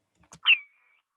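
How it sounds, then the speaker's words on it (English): A common swift inside a nest box gives a single short, shrill call to its mate, preceded by a few soft scratchy clicks, then silence. "this is an established breeding swift. It's used this box before and it's calling for its mate to join it in the box"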